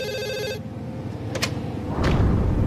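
A telephone bell rings briefly, then cuts off after about half a second, leaving faint room noise and a couple of soft knocks.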